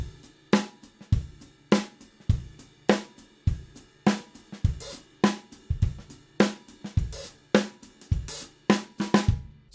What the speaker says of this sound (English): Now the E would become an open note for the hi-hat lift, and the A would be closed off to us.